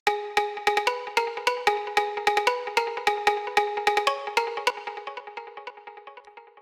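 Trance percussion sample built in Ableton, with saturation, reverb and delay: a quick, fairly loud run of sharp tonal hits in a steady syncopated pattern, gradually fading into a soft delay tail near the end.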